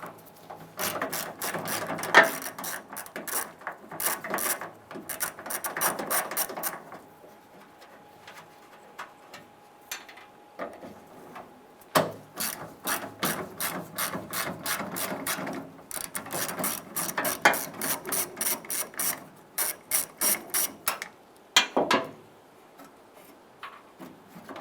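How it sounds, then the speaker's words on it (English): A ratchet wrench with an 8mm socket loosens tailgate nuts on a 2002-2008 Dodge Ram 1500, giving repeated bursts of rapid, close clicking that pause and resume, with no talking. "Using an 8mm socket, loosen and remove the two nuts here."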